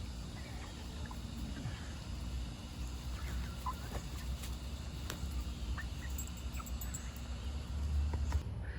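Chickens in a farm yard cluck in soft, scattered calls over a steady low outdoor hum, faint and somewhat distant.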